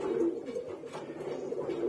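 A pair of white pigeons coo softly in a loft, low repeated throaty calls rolling on close by with a faint rustle of the birds.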